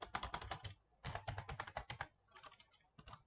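Rapid bursts of typing on a computer keyboard while writing PHP code, close and crisp, coming in three runs of fast keystrokes separated by brief pauses.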